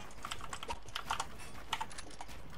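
Computer keyboard typing during a Fortnite Creative session, a steady run of fast, clustered key clicks close to the microphone with no talking.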